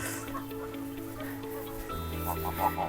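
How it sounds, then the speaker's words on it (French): Geese in their enclosure on a property in Isère give short clucking and honking calls, moderately close, while a person talks over them throughout. "les oies qui sont dans leur parc"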